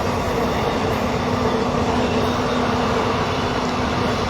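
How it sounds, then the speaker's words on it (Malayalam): A train passing along the railway track at Chullamukku in Trivandrum at night, a loud, continuous rumbling roar of wheels on rails with a steady hum, close by and unbroken. "അതാ ട്രെയിൻ കടന്നുപോയി"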